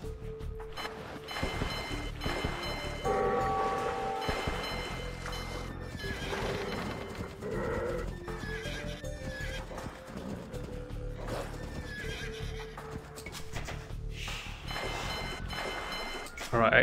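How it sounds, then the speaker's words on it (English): Horses neigh and whinny in Age of Empires II, several loud whinnies recurring with clip-clopping hooves amid game sounds and water ambience, while someone talks over the action. "Let's get these horses out of the way."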